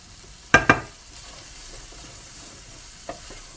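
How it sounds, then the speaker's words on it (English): A pan of frying potatoes gets stirred in a home kitchen: two quick, close scrapes of a utensil against the pan, then a soft, steady sizzle with one faint clink near the end. "I can mix it all up"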